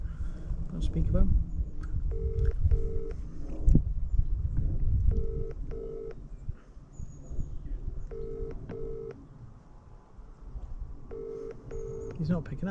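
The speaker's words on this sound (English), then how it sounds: "Let me try and phone him one more time." A phone call is dialled and rings out unanswered, with a series of paired electronic ring tones repeating at steady intervals over wind and outdoor background noise; a voice speaks faintly at the start.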